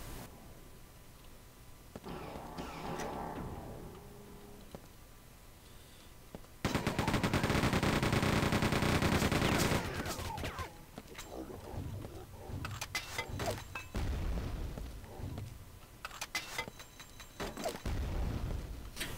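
In a Quake 2 boss fight, rapid gunfire and rocket blasts crackle and boom in bursts, with a long, loud sustained barrage in the middle and scattered shots and explosions before and after.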